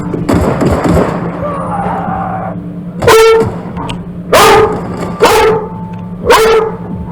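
A dog in the video game The Outer Worlds barks several times in loud, sharp bursts over a steady low hum, with scrabbling and thuds before the barks begin.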